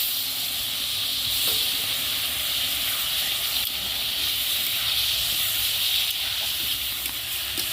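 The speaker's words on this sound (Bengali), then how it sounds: "এবার জল দিয়ে দেবো।" Water hits a hot pan of fried prawns, raising a continuous steam hiss that stays steady and moderately loud throughout, with no talking.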